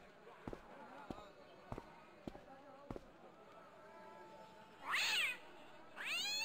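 In the video game Broken Sword, a series of soft, regular thuds gives way to two sharp, rising cat meows, one after the other, clearly audible over a quiet background.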